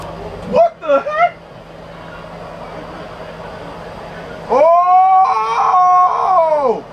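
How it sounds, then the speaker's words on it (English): A dog gives a few short yelps, then after a pause lets out a long, wavering howl that rises and falls, fairly loud and near. "A dog? That's a cool ass dog."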